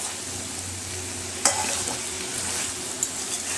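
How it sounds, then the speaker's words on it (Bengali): Mutton with kasuri methi being stirred in a hot pan, a steady loud sizzle broken by two sharp scrapes of the spoon against the metal. "এই সময়টা কিন্তু খুব ভালো করে নাড়াতে হবে"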